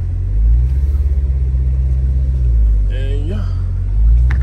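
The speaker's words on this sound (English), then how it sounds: "So we pulling the stolen car out." A stolen SRT Jeep's engine rumbles at close range as the vehicle is pulled out, giving a steady low drone that swells slightly, while someone talks briefly partway through.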